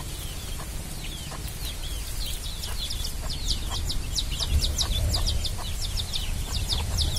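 Chickens and chicks on a village farm, heard as a busy scatter of short clucks and chirps over a steady rural background, moderately close and continuing throughout.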